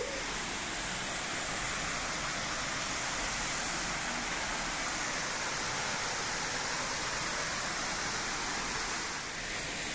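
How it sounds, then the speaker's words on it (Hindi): The artificial waterfall at Nek Chand Rock Garden in Chandigarh pours with a dense, continuous broadband rush, loud and steady from start to finish without pauses. "ये देखिए वही वाटरफॉल सा आ गए यहाँ पे"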